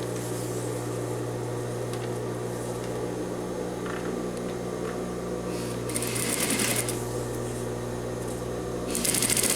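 Steady, continuous drone of a sewing machine stitching fabric for a men's vest, running without pause at close range, with a brighter rattling burst near the end.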